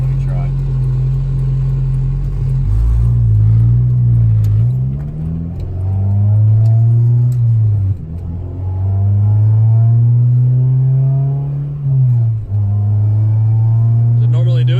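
Engine of a Honda DA9 revving up and easing off through a series of gear shifts, a steady loud rumble rising and falling in pitch with brief dips between gears, while people talk over it.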